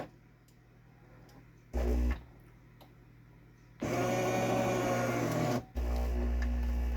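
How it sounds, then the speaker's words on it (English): An automatic espresso machine grinds coffee beans in loud whirring bursts, first a short one and then a long steady grind, each followed by a brief pause before running on. "You can hear it grinding the beans."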